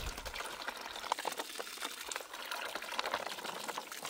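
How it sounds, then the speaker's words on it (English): Water pouring and splashing while a bag of gold paydirt is rinsed out, a steady close wash of liquid with faint clatter through it. "We'll go ahead and start with rinsing the bag out."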